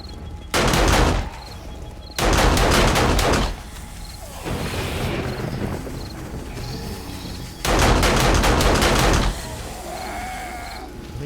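Automatic gunfire in the survival video game 7 Days To Die, two long sustained bursts with a third after a pause, loud and dense, with quieter game ambience between them.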